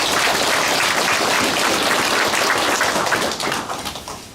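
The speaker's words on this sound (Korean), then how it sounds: "행정의 달인 김석환 군수님을 힘찬 박수로 환영해 주시기 바랍니다" A crowd at a Korean town meeting applauds vigorously to welcome the county governor, a loud, dense wash of clapping that fades out over the last second.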